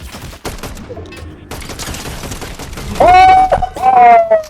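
Rapid bursts of gunfire from a gun in Fortnite crack in quick clusters, loud and close, with excited shouting breaking in near the end.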